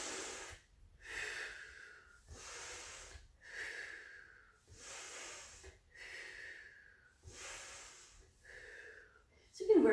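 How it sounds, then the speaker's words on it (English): Slow, rhythmic breathing during a Pilates abdominal exercise, with about eight airy inhales and exhales alternating at a steady pace, close and soft. "Breath in, breath out."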